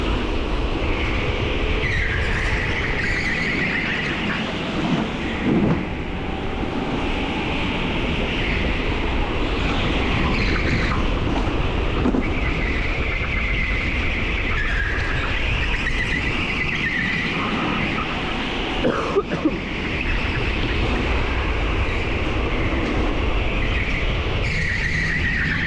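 Electric go-karts racing on an indoor track at TeamSport Nottingham, a continuous high motor whine with rising and falling pitch and tyre squeal, loud and close, no talk.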